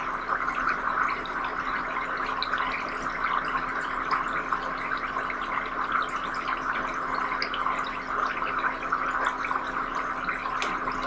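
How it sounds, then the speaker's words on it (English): Water bubbles and gurgles continuously in a Homedics Bubble Bliss foot spa, a steady, moderately quiet fizzing hiss with a faint motor hum underneath. "So you press that button. And it starts to bubble up."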